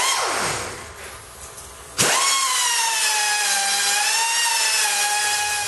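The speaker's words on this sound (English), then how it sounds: "just with a little bit of work with the die grinder, makes all the difference." A die grinder grinds a steel bar clamped in a vise while building a forge fire pot. After a quieter start it bites in with a sudden, loud, steady high-pitched whine that holds close and unbroken to the end.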